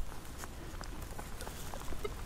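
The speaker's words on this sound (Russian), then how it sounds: "Такой дождь идет" Rain patters steadily outdoors at a Soviet-era dig site where old pots and coins are turning up, a soft irregular pattering with faint scattered drops and no talk.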